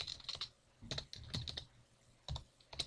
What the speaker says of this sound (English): so just type in the password